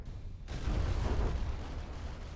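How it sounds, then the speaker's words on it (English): Heavy ship guns on the Clarkson fire in a video game naval battle, a sudden deep blast that swells into a sustained low rumble and roar lasting about two seconds. "the Clarkson started shooting again"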